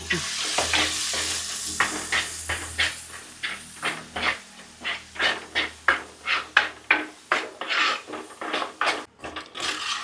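Spice paste for pineapple pachadi frying and being stirred in a pan, a soft steady sizzle broken by rhythmic scraping strokes of a spoon against the pan.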